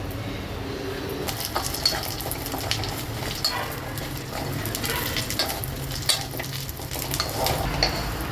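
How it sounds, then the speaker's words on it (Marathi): Black dates and figs roasting in ghee in a pan, with a continuous close sizzle and repeated scraping and stirring of a spoon against the metal. "ते आपण याच्यामध्ये टाकूया आणि तेही आपण याच्यामध्ये थोडं भाजून घेऊया तुपामध्ये"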